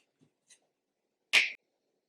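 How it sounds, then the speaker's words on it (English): One crisp, bright finger snap stands out sharply against near silence, coming after a few faint tiny clicks. "When I snap my fingers, I'm going to show you a letter."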